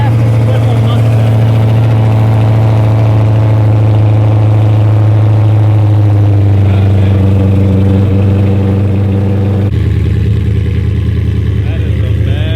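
A 2018 Mustang drag race car, a world-record swivel build, idles with a loud, steady, deep engine drone that shifts pitch slightly near the end, with voices talking over it.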